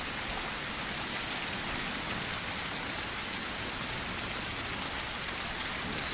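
Rain in the survival video game Blind Descent, a steady even hiss of rainfall pattering on surfaces, constant and moderately loud with no speech.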